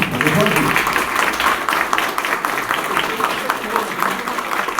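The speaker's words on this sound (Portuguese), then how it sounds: "Pode aplaudir." Sustained audience applause fills a church during a family-themed evangelical event, a broad wash of clapping and crowd noise holding steady at moderate loudness throughout.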